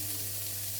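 Steady, close sizzling of chopped onion and garlic frying in a pan, constant and even with a faint low hum underneath.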